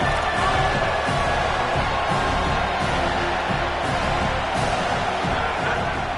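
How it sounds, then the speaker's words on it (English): A packed stadium crowd roars for the defense on third down in a college football video game, a dense, loud and sustained cheer with rising whoops that fills the whole stretch without a break. "Decibels rising as the crowd gets behind this defense on 3rd down."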